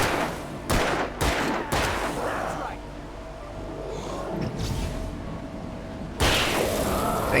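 Video game gunfire, with several sharp loud shots in quick succession near the start, a quieter stretch with a voice, then another burst of firing near the end.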